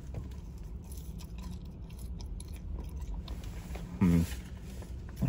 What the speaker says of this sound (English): let's get in close for a crunch test here with these crinkle cut fries